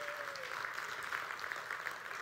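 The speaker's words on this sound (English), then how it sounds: "Let's give a round of applause" A church congregation gives a round of applause, many hands clapping in a continuous, fairly soft wash for a couple of seconds, with no speech heard.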